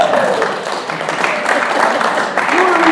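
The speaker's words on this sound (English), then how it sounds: "Give yourselves a round of applause." Audience applause at an Earth Day 2025 event, a steady wash of clapping at moderate volume with voices mixed in and a few brief spoken sounds.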